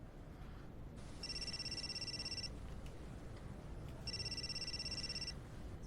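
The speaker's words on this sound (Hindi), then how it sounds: "फ़ोन क्यों नहीं उठा रही हो? शायद तुम्हारा कोई मुवक्किल कॉल कर रहा हो।" A telephone rings with two separate bursts of a steady electronic ringtone, moderately loud over a constant noisy background.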